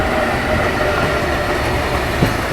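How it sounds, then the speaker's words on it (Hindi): A goods train rolls past outside at night near Shikohabad station, a loud continuous rumble and rattle of rail wagons with no talk. "फ़िलहाल उधर से कोई गुड्स ट्रेन जाती हुई"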